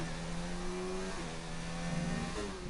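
An F1 race car in a racing video game, fitted with medium tyres, pulls out of the Mexico pits, its engine droning steadily and climbing slightly in pitch, loud and close throughout.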